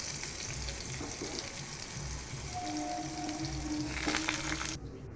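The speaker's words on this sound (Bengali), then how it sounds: "এখন একটু পটলগুলো ভাজবো।" Pieces of pointed gourd (potol) fry in a pan with a steady, close crackling sizzle, joined by brief scraping and a faint tonal hum midway, continuing evenly until cut off.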